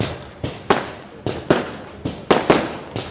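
Firecrackers burst at an outdoor election campaign rally in Barad, with about nine sharp, loud cracks each followed by a brief fading crackle, spaced unevenly over a few seconds and heard alone.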